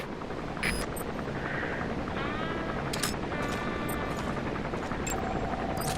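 An enemy gunship helicopter in the video game Metal Gear Solid V, a steady loud rotor drone that fills the scene, with brief sharp bursts and electronic tones layered over it.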